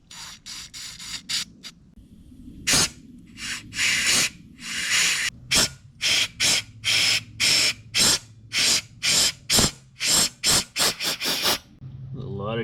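Cleaner is sprayed into a filter clogged with hardened, waxy grease. About fifteen short, sharp hissing spray bursts come close together in a quick, uneven rhythm, loud and near, with quieter gaps between them.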